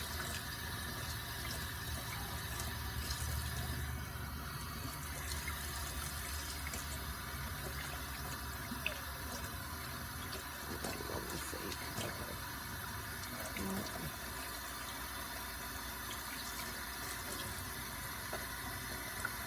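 Tap water runs steadily while ink bottles from an Epson EcoTank 4760 sublimation printer setup are rinsed, a continuous hissing splash at moderate level with small clinks and handling noises throughout.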